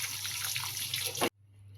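Cool water poured from a tap over soaked soya chunks in a strainer in a home kitchen, a close, steady splashing gush that cuts off abruptly, leaving faint room hum.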